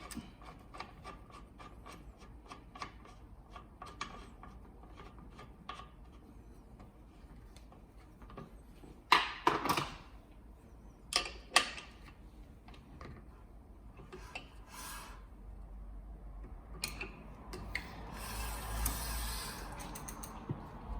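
A left bicycle pedal is threaded onto the crank of a Caraiman bike during setup, giving scattered dry metallic clicks, rubs and ratcheting ticks, with a few sharper knocks midway and a rougher scraping stretch near the end.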